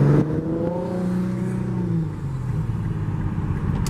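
A modded 2015 Infiniti Q50 3.7L with a muffler delete revs loudly up close, its engine tone rising and then easing into a steady droning hum.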